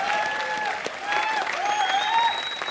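The studio audience of the Colors TV comedy show Comedy Nights Bachao applauds steadily throughout, with high thin tones running through the clapping.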